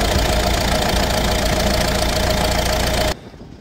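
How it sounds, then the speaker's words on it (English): A Fiat Talento van's engine runs loud and steady with a broad, hissing roar and a faint constant whine, the sound of a big boost leak, then cuts off abruptly near the end, leaving quiet background. "There's a big boost leak there."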